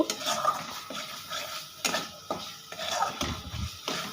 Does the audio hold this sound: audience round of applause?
no